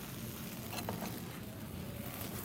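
Crepe batter frying in a pan just after being flipped, a steady soft sizzle running evenly throughout with no talking.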